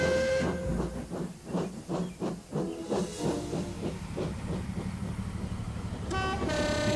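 A steam locomotive in the Trainz railway simulator, heard as rhythmic chuffing for the first few seconds that settles into a continuous hiss of steam, with a brief high whistle toot near the end.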